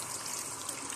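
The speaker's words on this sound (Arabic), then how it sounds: "ندير لها قطره ماء" A faint, steady trickle of water dribbled into couscous grains mixed with a little oil, a soft continuous hiss with no voices.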